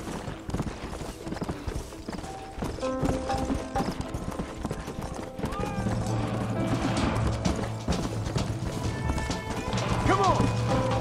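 Hooves clatter in fast galloping rhythm as several horses run in a Red Dead Redemption game scene, with crashes, whinnies and distant voices mixed over the steady pounding, growing busier toward the end.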